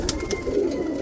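Roller pigeons cooing inside a loft, a soft continuous murmur of several birds at close range with a couple of brief wing or foot sounds near the start.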